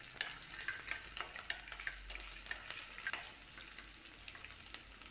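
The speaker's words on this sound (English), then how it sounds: "thinly sliced ginger, mix it well and saute for 1 minute" Thinly sliced ginger and garlic sauté in a pan for a South Indian fish curry, giving a quiet, continuous frying hiss with faint scattered clicks of stirring. No voices.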